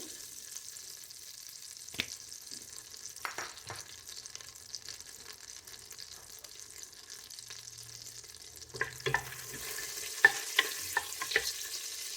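Butter and olive oil heat in a pot with a faint, low sizzle, broken by a few soft clicks and clatters that grow busier near the end.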